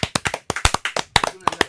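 Applause from a live audience on an FM radio show, a quick burst of sharp, uneven hand claps lasting under two seconds, close and fairly loud, with voices mixed in.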